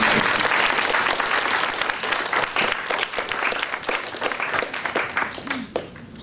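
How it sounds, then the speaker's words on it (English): A room of people breaks into applause during a phobia-cure demonstration, a full burst of clapping that gradually thins and fades near the end. "Okay, round of applause."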